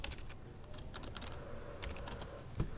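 Quick, faint keystrokes tap on a computer keyboard over a low room hum, a short run of typing with no voice.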